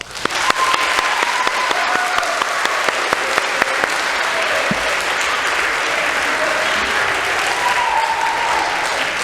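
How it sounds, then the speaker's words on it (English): A gym crowd at a school winter athletic assembly gives a loud, sustained round of applause, dense clapping with crisp sharp claps on top and a faint murmur of voices underneath. "I'd ask that you show them your appreciation to all of them with a heartfelt, loud round of applause."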